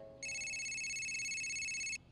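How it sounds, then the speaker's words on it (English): Telephone ringing at an office in the George of the Jungle cartoon, a single continuous electronic ring lasting under two seconds, clear and steady, with faint background sound before it. "Someone stop the ringing."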